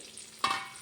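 Shallots dropped into hot oil for crab roast, with a sudden sizzling hiss that flares up and keeps frying steadily, close and alone.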